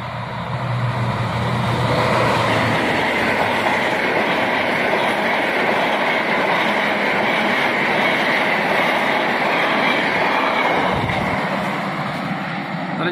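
The Malabar passenger train rolls past at close range on an Indonesian rail line, a loud continuous rumble of wheels and carriages with clickety-clack over the track joints throughout.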